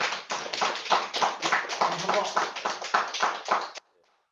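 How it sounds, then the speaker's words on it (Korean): An audience at a Q&A talk claps steadily for a few seconds, a dense, even patter that stops abruptly near the end. "한번 박수 부탁드리겠습니다"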